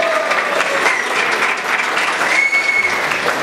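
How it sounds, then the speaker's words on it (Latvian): Steady, dense applause from an audience at a Latvian motocross champions' awards ceremony, loud and sustained throughout with no speech over it. "Aplausi!"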